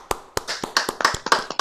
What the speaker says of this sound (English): let's give Sue a nice round of applause